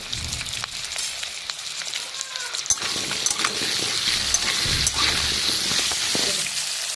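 Potato pieces fry in hot oil in a pan, a soft continuous sizzle with occasional crackles and light stirring taps, fairly quiet and close.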